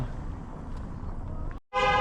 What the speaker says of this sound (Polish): Oni tu, kochani, trąbią jak jadą